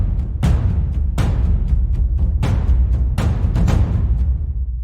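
A low drum plays a steady, loud, booming rhythm, with deep sustained hits landing at regular intervals over a continuous low rumble, no voices present.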